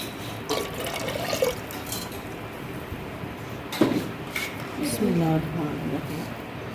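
Water splashes and trickles into a cooking pot on a stove, with faint clinks of metal, in a quiet indoor setting.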